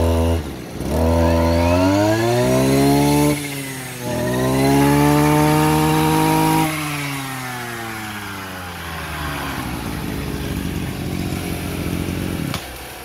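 A Maru 26cc chainsaw engine runs loud and close, revving up and down in long sweeping surges before settling into a steady, buzzing drone, with no talk over it.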